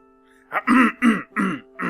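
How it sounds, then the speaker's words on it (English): A person clears their throat in four or five quick, gruff bursts, close and alone. "Sorry, I had to clear my throat."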